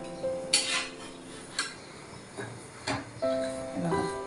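A veg sandwich is flipped in a pan on the stove, with a few sharp metallic spatula clinks and taps against the pan at irregular intervals, close by, over a faint background of tonal music and no talking.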